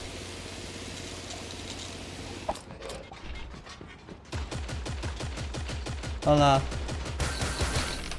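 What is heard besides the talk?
AK rifle gunfire in the video game Creative Destruction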